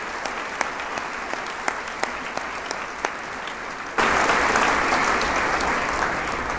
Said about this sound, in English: I would like to give them a special round of applause for everything that they do